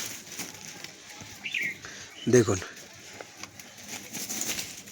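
A pigeon with a wing problem gives a brief, sharp burst of wing flapping at close range, between a man's quiet speech and low room noise.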